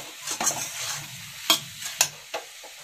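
Spices fry in a pan for a spicy capsicum and potato dish with sugar and coriander leaves, with a soft sizzle beneath a few sharp scrapes and clinks of stirring.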